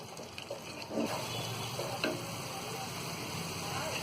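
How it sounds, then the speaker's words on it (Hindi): Malai cream roasts in a kadai with tomatoes for kadai paneer, a soft, steady sizzle broken by faint stirring clicks and scrapes. "अब इसमें हम ये मलाई डाल देंगे और मलाई को भी हम अच्छी तरह भून लेंगे।"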